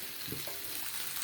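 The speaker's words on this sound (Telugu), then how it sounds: "దుంపలు వేస్తున్నాను చూడండి, పసుపు వేసి తిప్పాను." Potatoes with turmeric stir-frying in a pan, a steady close sizzle with faint scraping stirs throughout the short stretch.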